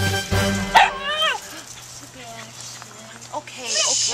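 A Cavalier King Charles Spaniel gives a few short yips and barks, close by, while a person speaks to it over the top.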